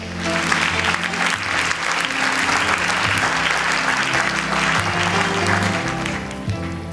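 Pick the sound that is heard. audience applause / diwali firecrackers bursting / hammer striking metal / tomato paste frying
audience applause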